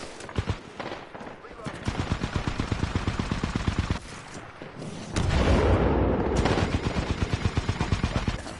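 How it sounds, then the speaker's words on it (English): Rapid turret gunfire in a video game, dense bursts of shots fired in quick succession, loud and continuous with a short pause, then heavier, rumbling fire resuming. "I'm getting shot on the right. Uh, that's a tie, a turret."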